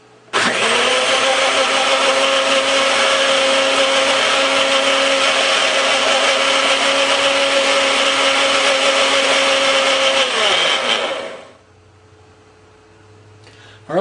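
A blender whirs steadily for about eleven seconds, loud and close, mixing ingredients for a vintage mandarin minted mold, then spins down and stops, leaving a quiet hum.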